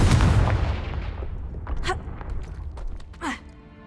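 Confringo fire spell explosion from Hogwarts Legacy, a heavy boom with crackling debris that decays over a few seconds, followed by faint scattered clinks and a brief vocal grunt.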